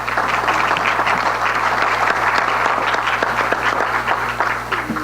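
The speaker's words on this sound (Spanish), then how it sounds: "un aplauso a los 3." Steady audience clapping greets three speakers at a human rights and poverty panel, a dense even patter lasting about five seconds over a constant low electrical hum.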